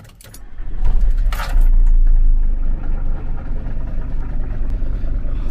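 A camper van engine starting up on choke, turning over with a jangly rattle at first and then settling into a steady, rough rattly idle, fairly loud and close, with no talking.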